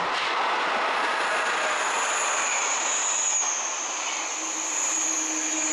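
A French TGV high-speed train runs on rails with a steady, loud broadband roar and a sustained high whine, passing close by without any break in the sound.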